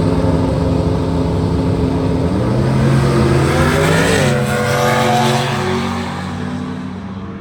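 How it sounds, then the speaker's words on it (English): A Camaro and a Chevy S10 drag race at a truck fest at Xtreme Raceway Park, with a loud, steady engine roar and rising revs that sweep upward, then ease off and fade slightly at the end. "looks like we got the Camaro against the S10"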